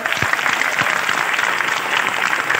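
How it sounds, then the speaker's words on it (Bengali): Loud applause from an audience of artists at a Bengali Artist Forum 25th anniversary gathering, with dense steady clapping that fills the whole stretch and a few low thumps near the start. "সে প্রমাণটা হচ্ছে জোরে একটা হাত তালিও"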